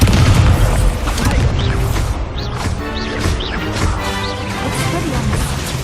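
Descendo spell slamming a target down in Hogwarts Legacy, a loud booming crash with heavy impacts and clattering debris through the whole stretch, over busy game effects.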